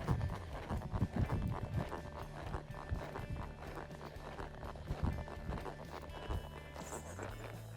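A horse walking on a loose rein, relaxed, during a training exercise; steady clip-clop hoofbeats at a calm walking rhythm sit close and moderately loud over some background noise, with no talking.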